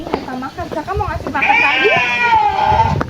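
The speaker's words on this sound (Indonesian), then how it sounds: "Ini kambingnya embe-embe aja dan kita langsung memberi makan kambing itu" Goats bleat at an animal park in Puncak, Cianjur, with several wavering calls close by, mixed with a person talking over them.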